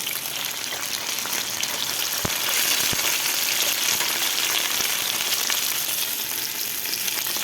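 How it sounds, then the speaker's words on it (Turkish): Steady loud sizzling of chicken breasts frying in a hot pan, with a couple of faint clicks and no voices. "Kızaranlar ters çeviriyoruz. Kızarmayanlar kızarmasını bekliyoruz"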